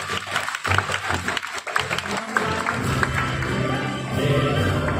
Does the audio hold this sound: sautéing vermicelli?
no